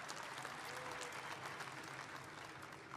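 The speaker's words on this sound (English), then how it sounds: "Give him a nice round of applause." A crowd at the Las Vegas Raiders stadium groundbreaking ceremony gives the governor of Nevada sustained applause, a steady wash of clapping from many people, fairly distant and even across the whole stretch.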